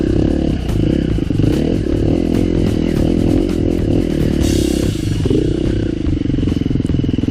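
A Husqvarna dirt bike, TE300 or FE350, climbing a technical test hill, its engine droning loud and steady with throttle variation and clattering over rough ground.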